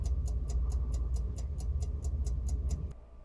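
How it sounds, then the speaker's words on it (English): Analog dashboard clock ticking inside a 1948 Buick Roadmaster Woodie, a steady even tick roughly every quarter second over a low rumble, close and quiet, stopping abruptly near the end. "you hear the clock ticking."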